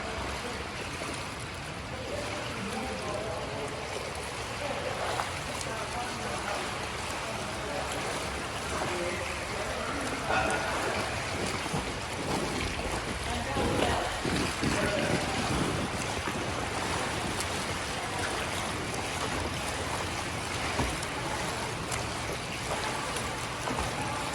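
A person swims freestyle laps in a 25-meter pool at a steady 1.5-second stroke tempo, with continuous splashing and churning water heard close by and no talk.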